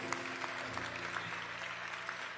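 Steady applause from a crowd at a memorial tribute service for a band, continuous clapping that holds at an even level throughout, heard from some distance in a large room.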